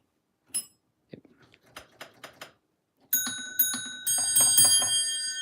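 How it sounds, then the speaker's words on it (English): A crude homemade elevator bell board, taped together with only some bells working, gives scattered single tones and taps, then a loud sustained ringing of several bells at once. "Here's my like really crappy bell board that doesn't work."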